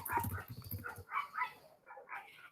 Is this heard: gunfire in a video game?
no